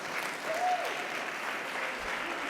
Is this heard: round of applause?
yes